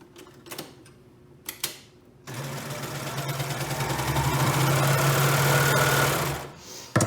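A sewing machine stitches shoulder seams in one sustained run of rapid mechanical whirring and ticking, close and fairly loud, after a few quiet clicks and handling taps.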